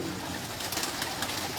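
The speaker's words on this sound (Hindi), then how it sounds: "अभी बाहर आते हैं कबूतर, आपको दिखाता हूँ।" Pigeons cooing close by, soft low coos repeating over a steady background hiss, with no voices.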